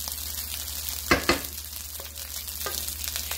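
Ribeye steak beef fried rice frying in a pan, a steady close sizzle with two sharp scraping stirs near the start and a couple of lighter clinks later, with no talking.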